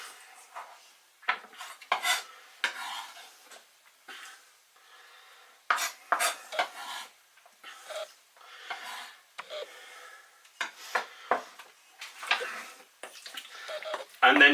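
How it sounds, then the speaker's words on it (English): Meat and pickles being stirred into a German meat salad. A spoon scrapes and clatters against the bowl in a steady, busy run of knocks and swishes, with a voice talking over it at times. "And then just stir it in"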